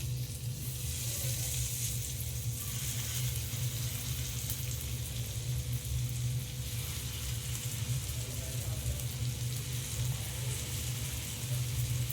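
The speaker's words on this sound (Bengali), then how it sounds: "এবার আমি চিকেনগুলো সব একটা একটা করে দিয়ে ভেজে নেব" Chicken pieces frying in hot oil at medium heat, a dense steady sizzle with a constant low hum underneath, running unbroken throughout without speech.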